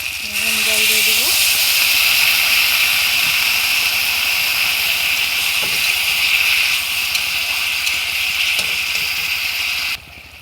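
Water poured into a hot pan of thinly cooked vegetables seasoned with a little chili and cumin, producing a loud, steady hiss of steam that holds for about ten seconds before cutting off abruptly.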